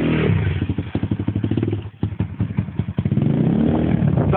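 A pit bike's small engine chugs and putters up close as the rider slowly lets the clutch out, a rapid pulsing beat that dips briefly, then swells back into a fuller, steadier drone.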